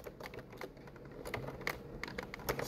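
Code is typed on a computer keyboard in quick, uneven bursts of soft clicking keystrokes, close by and fairly quiet, with no one speaking.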